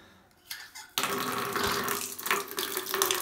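Water from a tap pours into a bucket during Holi, starting with a faint trickle and then turning into a loud, steady rush of filling water with no talking.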